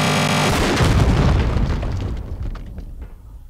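A heavy, loud boom from a gunshot or explosion in the Tomb Raider game hits at once, then rumbles and slowly fades over a few seconds.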